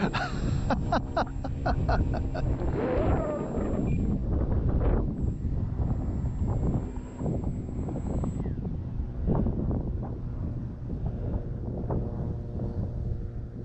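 Gusty wind buffets the microphone at an RC flying field while a glider flies with its motor off, a loud, continuous low rumble with brief whirring bursts early on.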